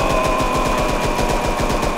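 Rapid cartoon machine-gun fire rattles at a character in an animated Rust game skit, a loud, steady burst of evenly spaced shots lasting about two seconds with no talking.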